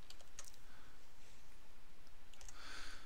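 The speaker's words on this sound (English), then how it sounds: "Okay, so we just done a whole lot of typing there." Typing on a computer keyboard while coding a Joomla 3.x site module, with quick, irregular clicks and key taps that run steadily and close by, brighter bursts toward the end and no speech.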